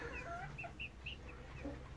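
Backyard chickens clucking in short, scattered calls over a steady low background hum, fairly close and moderately loud, with no talk.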